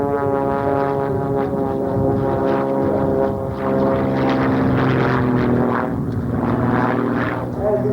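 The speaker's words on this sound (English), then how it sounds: "it almost looks like a P-51, but it's built especially for stunts like this" A single-engine propeller stunt plane resembling a P-51 drones loudly and steadily overhead at an air show, its engine note wavering slightly as it flies close by.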